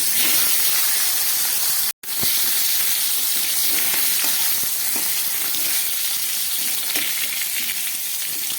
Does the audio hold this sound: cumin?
yes